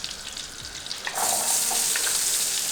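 Onions dropped into hot butter in a pan, with a quiet start that bursts into a loud, steady sizzle and crackle that continues alone.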